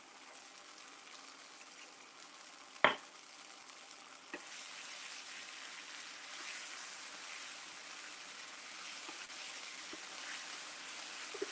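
Tofu fries in a hot pan, starting with a soft low hiss, then a sharp pop as it goes in, followed by a steady, fairly quiet sizzle with faint crackles for the rest of the time.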